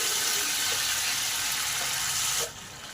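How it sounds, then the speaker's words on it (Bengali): Water hits a hot pan of spiced tomato and eggplant, setting off a steady loud hiss and sizzle close by that drops suddenly in volume near the end, with no talk. "এই সময় 2 চামচ জল দিলাম।"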